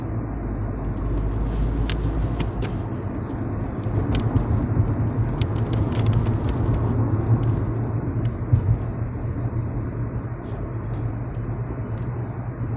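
A car driving along a road gives a steady low engine rumble and tyre roar from inside the cabin, continuous and fairly loud, with occasional small clicks and no talking.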